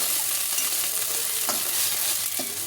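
Ginger-garlic paste and onions frying while being stirred with a spatula, a constant dense sizzle broken by a few sharp scrapes of the spatula against the pan, with no voices.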